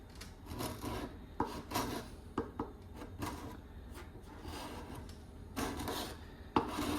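Slow, uneven scraping as a burred edge rasps old paint out of the groove of a Johnson 524 level restoration, short close strokes repeating irregularly with brief pauses in a quiet workshop.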